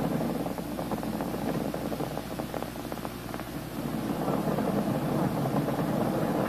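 Space Shuttle Challenger's three main engines roar during ascent, throttled down to 65% through maximum aerodynamic pressure: a steady, dense, distant rumble that holds without a break.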